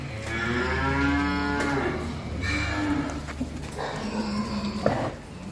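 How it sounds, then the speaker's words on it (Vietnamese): Young bulls on a cattle farm low in long, deep moos, several overlapping calls one after another amid general barn noise. "Mười lăm con bò đực"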